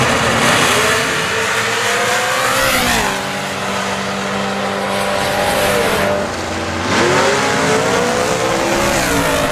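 Drag racing cars launching down the strip at a motorsports park, loud roaring engines rising in pitch through the gears, one car after another, close and continuous with no talking.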